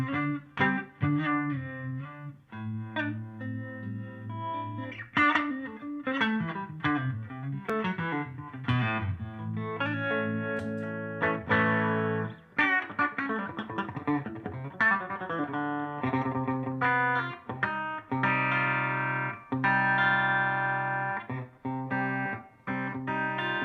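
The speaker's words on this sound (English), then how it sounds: "That harmonic vibrato is in my amp." A guitarist plays a live electric guitar through an amp's built-in harmonic vibrato, with reverb also on the amp, in the Orange Room. The loud, continuous chords and lead lines waver and pulse steadily, and no one speaks.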